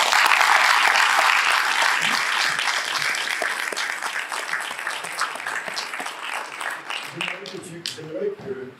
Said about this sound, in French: je vous demande d'applaudir Maxime